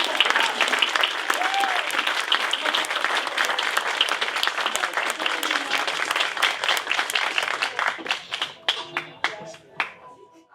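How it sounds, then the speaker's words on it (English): A room full of audience members at a venture competition applauds loudly with dense, sustained clapping that thins out into scattered individual claps and fades near the end. "I know we already applauded it"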